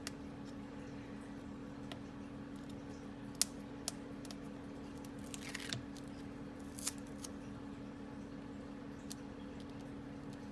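Scissors trimming excess paper from the edges of a handmade snowman shaker card front: a few faint, isolated snips and clicks spaced apart over a low steady hum in a quiet room.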